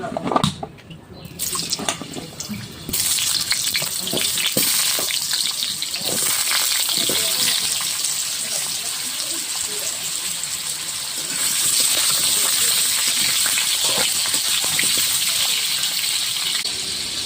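Potatoes fry in white oil in a kadai with a steady, loud, broadband sizzle that stays close and continuous, swelling slightly partway through, with no talking.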